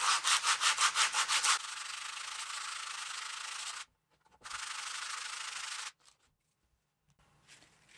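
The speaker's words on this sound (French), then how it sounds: "c'est toujours utile de donner un petit coup de ponçage quand même sur le cuir" Sandpaper rubbed over a piece of leather being prepared for a knife strop: quick rhythmic scrubbing strokes at first, then long steady rasping passes separated by brief pauses, close and fairly loud with no talking.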